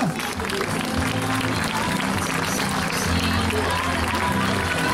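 Crowd applause at the Jesolo European Air Show for the Patrulla Águila aerobatic team, a steady wash of clapping from many people, continuous for the whole stretch with some background voices mixed in.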